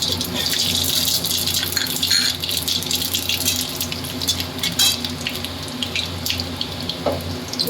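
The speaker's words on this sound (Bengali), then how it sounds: "আর এই যে পাঁচফোড়নটা তেলে দিয়ে দিচ্ছি" Panch phoron five-spice sizzling in hot oil for a Bengali cauliflower-stem chorchori; a steady, close, hissing fry with faint clinks, no talking.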